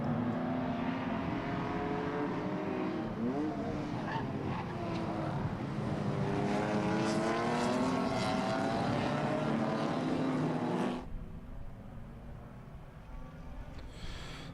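A field of race cars pulls away at the start of a race at Bruce McLaren Motorsport Park, engines roaring loud and close with rising and falling pitch as they pass, then dropping away into distant droning.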